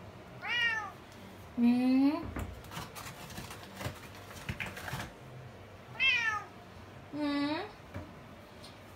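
A hungry, angry cat gives four loud, drawn-out meows in pairs, close to the microphone, with a person's voice talking briefly between them.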